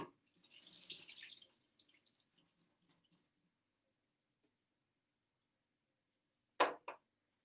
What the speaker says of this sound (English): I'm going to take off the lid, be careful with the sharp sides, and drain it over the sink.